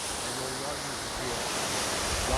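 A stream pours over the Yerköprü waterfall in a national park in Mersin, Türkiye, making a loud, unbroken rushing roar that fills the whole scene.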